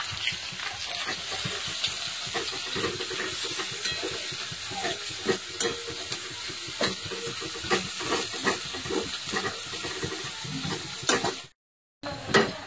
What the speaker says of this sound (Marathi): आता मी त्याच्यामध्ये कांदा ऍड करणार आहे।